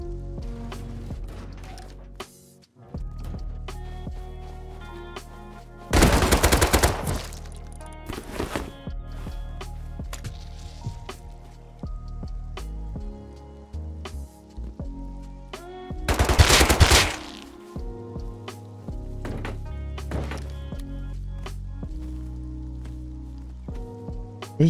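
In the survival video game Rust, an AK rifle fires two loud, close bursts of rapid automatic gunfire, separated by quieter stretches of in-game ambience and scattered small impacts.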